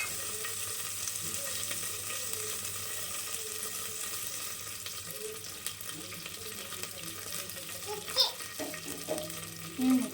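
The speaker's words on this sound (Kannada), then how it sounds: "ಫ್ರೈ ಮಾಡ್ತಾ ಇದ್ದೀನಿ ಎಣ್ಣೆಗೆ" Spices frying gently in oil for mutton pulao, a soft continuous sizzle at low level with occasional clinks of utensils.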